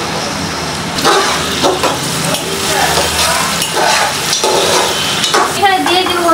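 Chopped onions sizzle in a pan in a home kitchen as beef khichuri is started, with a loud, steady frying hiss. Scraping stirs and occasional clinks of utensil on pan repeat throughout.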